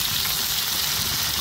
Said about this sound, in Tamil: நம்ம நைஸாக நறுக்கி வச்சுருக்க பல்லாரி வெங்காயத்தை சேர்க்குறோண்ணா